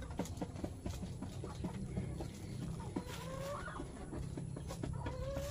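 Chickens and a mother hen cluck and squabble nonstop on a backyard farm, a dense layer of overlapping close calls with occasional higher squawks, no talking.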